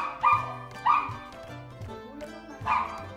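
Dogs bark excitedly in a house on moving day, three loud, close barks spaced apart with softer yips and whines between them.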